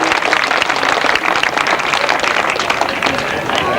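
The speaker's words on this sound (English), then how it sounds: "A little round of applause." Audience applause at a grasstrack racing award ceremony, a dense, continuous patter of many hands clapping at moderate loudness with some voices mixed in.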